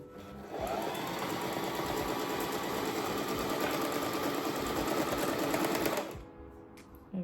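A Singer Fashion Mate 3342 sewing machine stitching a decorative pattern runs in one steady, loud, rapid mechanical whir with a fast rattling needle beat for about five seconds, then stops abruptly, heard close with no talking.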